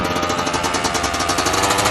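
Dirt bike engine revving hard under throttle for a wheelie, a loud, close, rapid pulsing rasp held steadily throughout with no talk.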